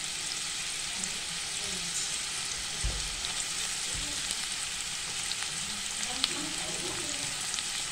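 Chopped onion and two bay leaves frying in hot oil for chicken keema pav, a steady close sizzle with occasional stirring knocks from a utensil.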